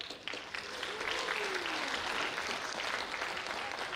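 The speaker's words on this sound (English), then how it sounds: "Come on, big clap, come on," Dense, steady applause from a large audience fills a film festival opening ceremony, sustained and loud throughout, with crowd noise underneath and a brief tonal sweep partway through.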